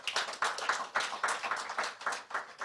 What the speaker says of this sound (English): Colleagues, can we give Ibrahim a round of applause?